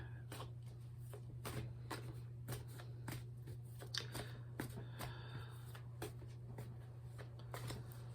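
Tarot cards being shuffled by hand in a quiet room, a run of quick, soft riffling flicks and slaps in an irregular rhythm, close and fairly faint over a steady low hum.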